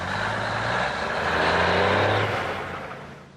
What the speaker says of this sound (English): This is what a 30-ton truck sounds like to a toddler.